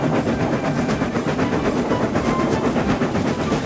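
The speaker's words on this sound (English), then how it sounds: "He steamed along the line as smoothly and as quickly as he could." A steam train rumbles steadily along the track, a dense, continuous mechanical roar with faint rhythmic clatter, close and loud throughout.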